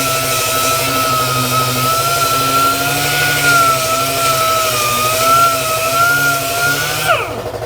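A grinder works down body filler on a 1966 Nova race car, running steadily and loudly with a whining tone for several seconds before spinning down at the end.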